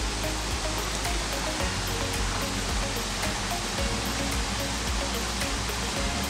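Cascada de Tejería waterfall in Motozintla, Chiapas, heard from about ten metres away as a steady, broad rushing roar of falling water, loud and unbroken from start to end.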